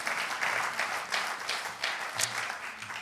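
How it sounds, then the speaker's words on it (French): Scattered audience applause rises at a seaside health round-table event, fairly faint, with a few soft swelling bursts of clapping in quick succession. "Vous pouvez les applaudir."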